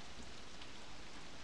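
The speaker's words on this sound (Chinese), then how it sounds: "你从水榭刚一出来就下大雨了" Heavy rain pours down outside a waterside pavilion, a steady, dense hiss that runs evenly through the whole stretch with no voices over it.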